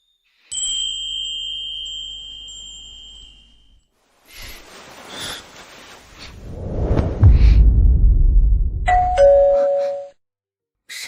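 A home doorbell rings with a loud, piercing electronic two-tone chime held for a few seconds, then a whoosh and a low rumble, and another chime sounds near the end.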